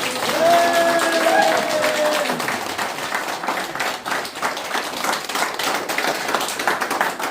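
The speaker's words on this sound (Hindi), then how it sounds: "तो फिर पूरी ताली बजाओ या मत बजाओ?" Sustained loud clapping from an audience, steady rapid claps filling the room, with some brief whistles or tonal sounds early on before the applause continues alone.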